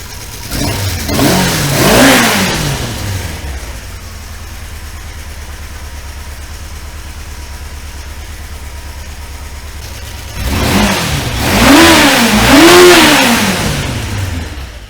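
A Kawasaki Concours ZG1000 four-cylinder motorcycle engine, carburetors freshly synced, revs up sharply twice, with a steady idle between the loud, close throttle blips.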